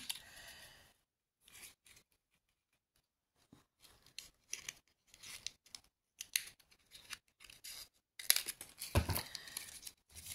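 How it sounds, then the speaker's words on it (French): Small scissors snip paper in short, crisp cuts, scattered irregularly with pauses between bursts, close and fairly quiet. "Je vais prendre des petits ciseaux pour aller bien dans le coin."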